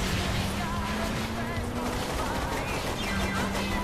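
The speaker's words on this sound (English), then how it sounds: "I'm trying to shoot them." Sustained automatic gunfire in the video game Saints Row: The Third, dense rapid bursts of shots running continuously at steady loudness, with a steady tone in the background.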